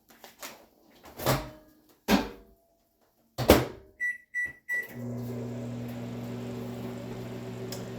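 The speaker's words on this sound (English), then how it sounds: "put it in the microwave for 90 seconds" Microwave oven heating rice: clunks of the door and dish, three quick beeps as buttons are pressed, then a steady low mechanical hum as the oven starts running.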